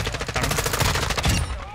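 Rapid automatic gunfire in the video game Warzone, a dense continuous burst of shots lasting under two seconds, loud and close.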